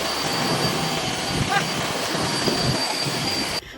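A Deerma DX115C vacuum cleaner runs while cleaning a house, a loud, steady motor roar with a thin high whine, holding constant before cutting off abruptly at the end.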